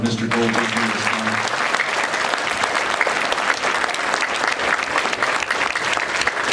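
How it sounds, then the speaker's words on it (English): A school breakfast audience applauds steadily in one continuous round of clapping, dense and sustained, with a brief voice at the very start. "Let's give one more round of applause for Mr. Gold being here this morning."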